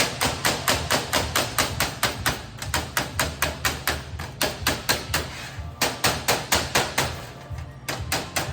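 Tail light buckets for the bezels on a custom Mercury wagon are tapped lightly into place around the grill, giving a steady, rapid series of close, evenly spaced light hammer taps that pause briefly, then continue.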